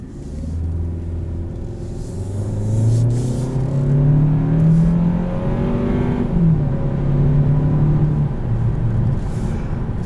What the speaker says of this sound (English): transmission shifts nice and smooth, a lot of pickup. You can tell that it's a smaller turbocharger